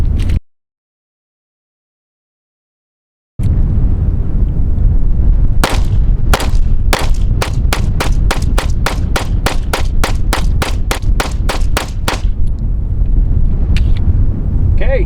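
A Springfield Prodigy pistol fires a rapid string of about a dozen loud, close gunshots at a fast, even pace, after a silent gap and over a constant outdoor rumble.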